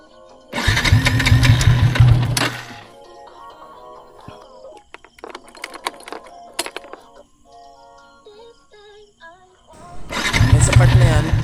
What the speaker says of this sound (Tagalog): Kaso pinilit ko siyang paandarin, ayaw niya pa rin magtuloy-tuloy.